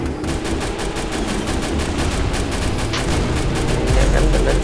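Rapid automatic gunfire from the Free Fire video game, a loud, continuous burst of close shots in quick rhythm that gets heavier near the end.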